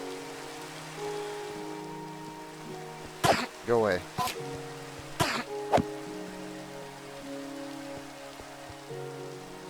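Minecraft rain falls as a steady, soft hiss behind the whole scene while a person talks and coughs over it in short bursts near the middle.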